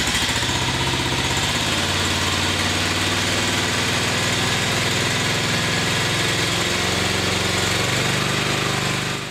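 A BCS 749 walk-behind tractor engine idles at its lowest throttle setting, giving a steady, loud, close mechanical drone with vibration throughout and no speech.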